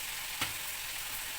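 Cumin seeds hit hot oil while mutton mince is being cooked, giving a steady close hiss of frying with one brief sharper crackle, and no one speaking.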